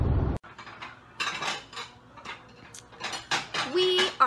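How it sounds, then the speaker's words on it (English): Dishes and cutlery clink and clatter in short bursts as they are put away in a home kitchen, a close, busy run of knocks and chinks. "Cleo's putting the dishes away."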